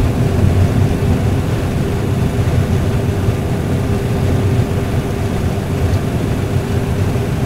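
Airliner engines roar at takeoff power during the takeoff roll from Mykonos toward Santorini, a dense, steady, loud rumble and hiss heard from close by without pause.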